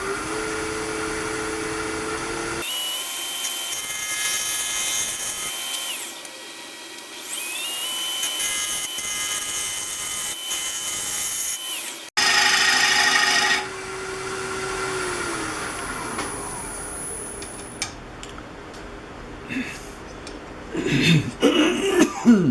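A wood lathe turns a wooden flower petal while a tool takes a very fine shaving, giving a thin whirring hiss with a steady high tone that stops and restarts.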